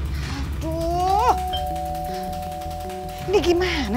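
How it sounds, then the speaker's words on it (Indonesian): A doorbell chimes with a ding-dong, then rings again, a clear indoor tone at a house after dark, with a voice speaking over parts of it. "Masa udah dibunyiin bel berkali-kali nggak keluar-keluar juga?"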